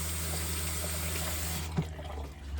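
Hot water runs steadily from a camper faucet as a continuous close hiss and splash, then cuts off abruptly about two-thirds of the way through, leaving only a low hum.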